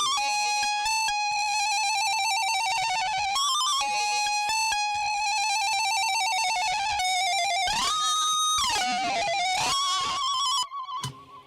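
A Vulpix synth lead plays a vocal melody as a steady run of bright, buzzy sustained notes with some pitch slides, loud and alone, for a pop-punk track.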